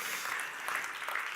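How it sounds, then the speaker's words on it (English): An audience at an online wind energy conference stage applauds a speaker coming up, a steady crowd clapping heard fairly faintly for a brief moment with no talking over it. "Let's welcome him on the stage with a round of applause."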